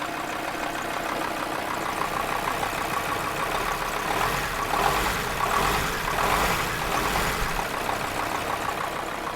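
The damaged Mercedes 2.7 CDI diesel engine of a recovery truck, missing its number 4 main bearing cap, runs at a steady idle for several seconds, a close, even mechanical rumble with no talk.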